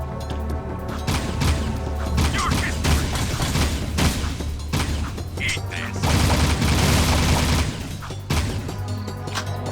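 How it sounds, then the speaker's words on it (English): Weapon fire in the action game Jak II rattles in dense, repeated bursts with booming impacts and crashes throughout, loud and continuous, while a voice talks faintly underneath. "Just gonna keep firing around here because you can."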